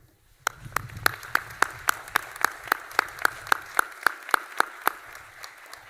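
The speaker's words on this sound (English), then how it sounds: "Students, please join me in a round of applause for your family" A commencement audience applauds at a college graduation ceremony, with one sharp, steady clap repeating close by in a fast, even rhythm over softer crowd clapping for about five seconds.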